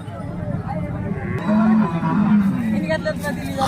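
A bull lowing in a drawn-out moo, loud and close, over a murmur of crowd noise and scattered voices at the busy Salegaon bull market.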